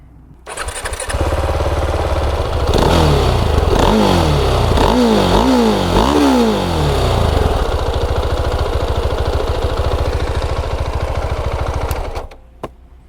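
A Husqvarna Vitpilen 701 motorcycle engine fires up and revs several times, pitch climbing and falling in quick bursts, then settles into a steady loud drone before cutting off.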